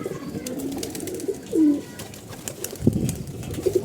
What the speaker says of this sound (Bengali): কিছু কবুতর খাইতে আসছে